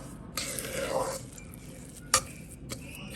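Dry ingredients for basbousa are mixed by hand in a bowl, producing soft, faint rustling and scraping strokes with a couple of sharp clinks, close up and quiet.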